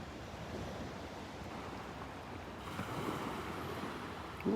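Waves wash steadily onto the beach at Delnor-Wiggins under a soft constant wind rush. The surf swells a little louder near the end, and no one speaks.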